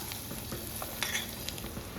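Onion and green chili sautéing in a pan for kande pohe, a soft steady sizzle with a few light scraping stirs, heard close and alone.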